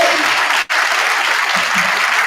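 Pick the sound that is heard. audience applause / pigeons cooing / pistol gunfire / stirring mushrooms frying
audience applause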